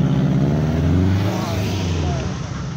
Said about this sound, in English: Skyline's revving up.